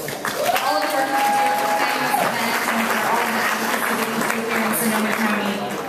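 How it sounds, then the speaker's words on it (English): Audience applause at a community nonprofit awards celebration and annual dinner in Sonoma County: steady, dense clapping from a room of diners fills the full six seconds at even loudness, with some voices mixed into the crowd. "I want to give one more round of applause"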